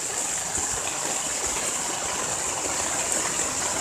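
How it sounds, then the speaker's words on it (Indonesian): Heavy rain pours steadily on a motocamping tent, a dense, continuous hiss and patter that stays loud and even throughout, with no voices. "soalnya hujannya deras banget"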